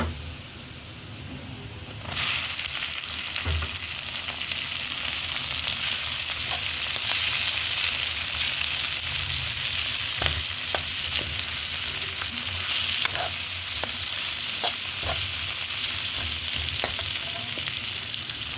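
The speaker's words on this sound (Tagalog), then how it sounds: "Brown na yung ating garlic, kaya pwede na natin ilagay yung hipon." Shrimp dropped into butter with browned garlic in a pan, a quiet start jumping to a loud steady sizzle, with occasional stirring clicks over the frying and no speech.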